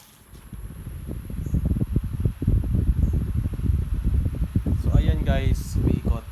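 An electric fan converted to run on 12V spins up and runs with a steady, loud, close whirring rush, and a voice briefly joins near the end.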